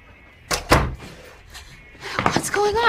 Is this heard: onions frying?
no